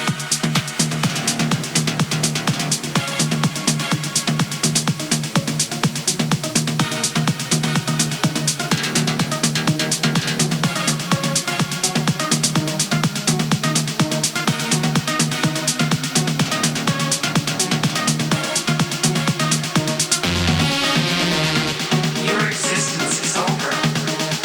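Melodic techno breakdown plays as a dense, sustained synth bed with a steady pulse, swelling with sweeping sound effects and a noise riser near the end, building toward the drop.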